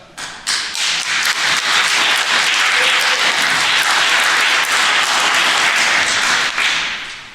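Enthusiastic applause from an audience at a political talk about the Ohio legislature swells quickly and holds loud and steady for several seconds before easing, dense clapping close and without talk.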